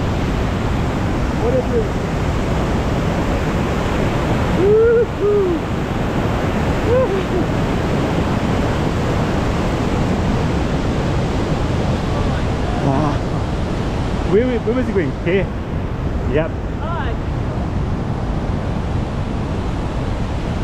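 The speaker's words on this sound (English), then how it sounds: "just to show you the river we're going to be crossing." A river's broad rushing flow roars close by on an outdoor trek, a constant loud wash of water with wind buffeting the microphone and a few people talking briefly over it.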